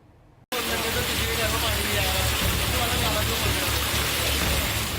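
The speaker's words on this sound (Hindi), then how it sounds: "मानसून की पहले ही बारिश ने बागेश्वर को बेहाल कर दिया है।" Heavy monsoon downpour over Bageshwar town, a dense steady roar of rain that starts abruptly after a brief quiet moment and holds loud and constant, with a low rumble beneath.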